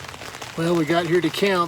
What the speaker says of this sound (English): it's pouring down rain right now